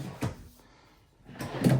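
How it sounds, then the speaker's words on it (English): Drawers in the galley of a 2026 Cardinal 37GALLEY fifth-wheel RV slide and bump shut, two close knocking thumps with a quiet gap between them, the second louder and fuller, with no talk. "You're going to have 3 drawers here."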